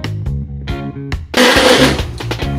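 A blender motor starts and stops in short pulses, then roars into a harsh, gritty whir as it churns a thick banana porridge mixture, close and loud.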